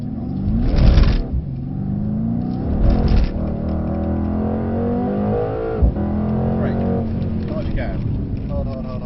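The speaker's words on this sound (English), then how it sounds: "We're going to accelerate to 70 miles an hour." Mercedes-AMG 63 accelerating hard from a standstill up to 70 mph on a driving circuit, engine note rising steadily with gear changes, heard from inside the car under ongoing talk.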